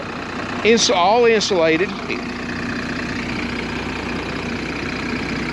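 A Cummins 330 diesel engine idles in a 2001 Monaco Diplomat 38D Class A motorhome, a steady low rumble that runs on after a brief spoken remark.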